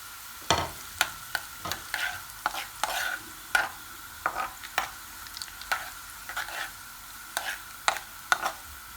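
Crackling sizzle of curry leaves dropped into hot oil for a lentil curry tempering, with sharp spattering pops every half second or so over a steady frying hiss.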